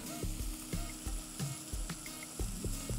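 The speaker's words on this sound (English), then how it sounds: "You wanna fry your onion. I prefer red onion, less acidic, sweeter" Red onion frying in a pan makes a steady, quiet sizzle, broken by rhythmic scraping and knocking as it is stirred.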